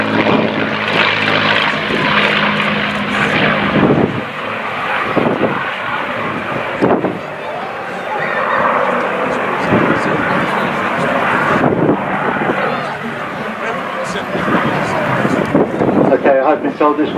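A P-51D Mustang, a North American-built propeller fighter, roars through a victory roll at an air show rally in Essex, its engine drone loud and steady with wind buffeting, while an announcer talks over it throughout.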